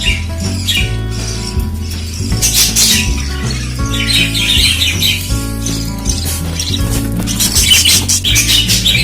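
Budgerigar chicks squawk and chirp in quick, overlapping bursts while being spoon-fed homemade formula, shrill and close. Steady background music plays beneath them throughout.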